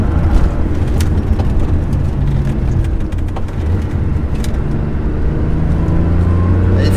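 A Porsche 911 SC's air-cooled flat-six roars loudly on a race circuit during braking with heel-toe downshifts, a heavy, continuous engine drone with brief blips and shifting pitch, no talking over it.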